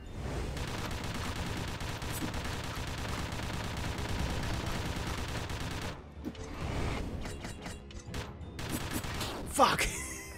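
Dungreed gunfire: dense, continuous rapid shots pile into a harsh wall of noise, then break into scattered impacts and clanks, with a sharp hit near the end.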